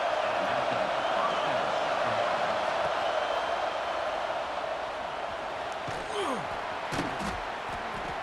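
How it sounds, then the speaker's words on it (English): Stadium crowd in the EA Sports College Football 26 video game, a dense, loud, continuous roar of fans with sharp thumps and slaps poking through near the end. "It's early, but this crowd is fired up. Listen to this noise here."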